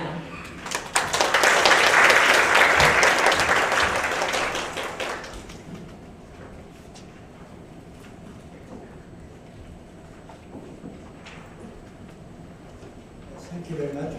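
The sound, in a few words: audience applause welcoming the speaker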